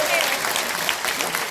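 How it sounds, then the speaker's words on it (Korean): Supporters at a Liberty Korea Party political rally burst into continuous applause, the clapping filling the whole moment at even loudness. "박수 한번 주세요. 박수."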